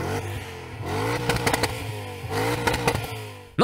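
A BMW E39 M5 engine revs hard twice, pitch sweeping up and back down with crackling pops between, close and loud.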